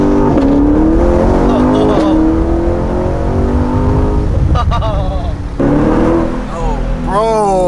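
A straight-piped Chevrolet Corvette C8 engine revs and shifts up close, the exhaust rising and dropping in loud pulls with a faint turbo-like whistle over the roar, though the engine is not turbocharged.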